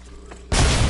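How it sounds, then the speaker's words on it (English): A frag grenade in the battle-royale shooter Apex Legends detonates with a sudden loud, broad blast that cuts in halfway through and holds a dense roar to the end. "Grenade!"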